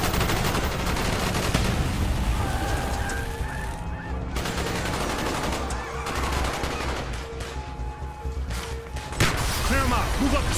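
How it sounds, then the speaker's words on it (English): Sustained street-battle gunfire in Call of Duty Black Ops, with rattling machine-gun bursts and scattered shots layered over shouting soldier voices and chaotic combat noise throughout. "Bowman, Carlos, lay down covering fire"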